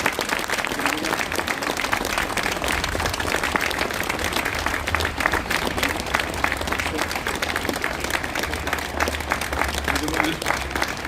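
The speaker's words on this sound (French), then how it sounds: "Je demande de poursuivre les applaudissements le plus longtemps possible" A crowd at an outdoor peace rally in Lourdes supporting Ukraine keeps up dense, sustained applause. The clapping stays loud and even throughout, with faint voices mixed in.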